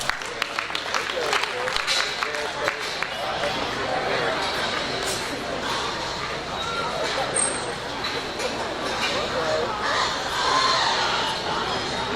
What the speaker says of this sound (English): Give both those kids a good round of applause